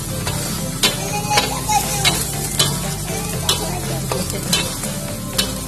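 Mie lidi noodles with seasoning stirred in a pan, a steady sizzle of frying broken by regular scraping strokes of the utensil about every half second.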